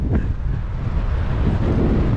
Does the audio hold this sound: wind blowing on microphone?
yes